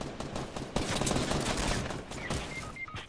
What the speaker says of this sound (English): I'm getting shot from behind too, man.